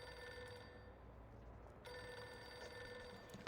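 A telephone rings on an assistant's desk in an office, a faint, steady electronic ring that breaks off briefly partway through and then starts again.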